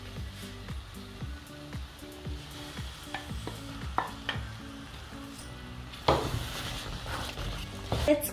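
Kidney beans are stirred into a simmering Ghanaian vegan jollof rice sauce, with repeated spoon scrapes and clinks against the pot over a soft sizzle, then a louder stir and splash near the end.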